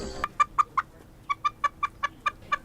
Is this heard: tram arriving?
no